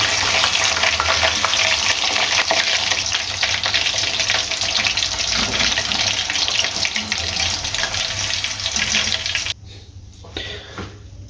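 Chicken frying in hot oil, a loud, dense and steady sizzle that runs for several seconds before cutting off abruptly to a quieter background with a few soft clatters.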